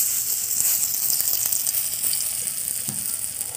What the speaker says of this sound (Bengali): তেল তেতে গেছে এবার আমি বড়া ভাজা শুরু করে দেবো